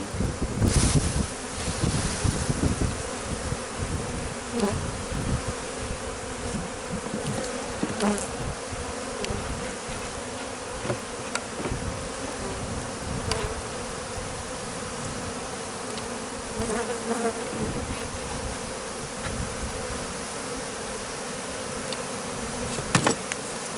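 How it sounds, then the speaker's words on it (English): A dense, steady buzzing of a massive swarm of honey bees during a beehive removal fills the air, loud and close, with occasional sharper individual buzzes passing by. "the amount of bees that we have right here is crazy"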